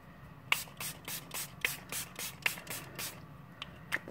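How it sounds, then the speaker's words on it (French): Short bursts from a spray can misting ink onto an art journal page, about a dozen quick hisses in an uneven rhythm, close and fairly soft, with no talking. "Le spray."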